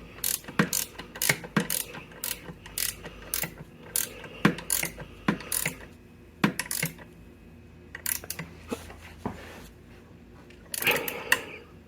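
A ratchet tightens a bolt on a seized 1979 Vespa P200E Piaggio engine during a rebuild: close, sharp clicking bursts in quick rhythmic runs with short pauses, ending in a louder flurry, and no talk.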